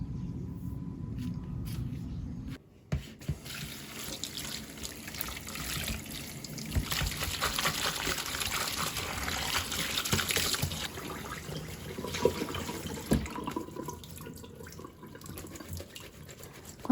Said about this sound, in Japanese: それから、石鹸で洗っていきたいと思います。